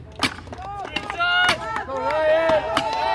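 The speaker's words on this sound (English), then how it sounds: "they're going to want to chop 3/4 of the way through these blocks" Sharp racing-axe strikes bite into a wood block several times in quick succession at a lumberjack competition, while a crowd cheers and calls out loudly underneath.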